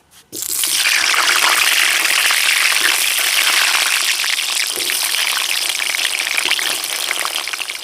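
Cut potatoes frying in mustard oil in a wok, a loud steady sizzle and hiss that starts abruptly as they go in and keeps up unbroken.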